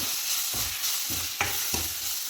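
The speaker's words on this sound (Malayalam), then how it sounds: "എല്ലാം കൂടി ഇട്ടൊന്ന് വഴറ്റി കൊടുക്കാം" Garlic and pepper powder sautéing in a pan for a drumstick and potato curry, with a steady sizzle and several soft rhythmic scrapes of stirring, close and alone without talk.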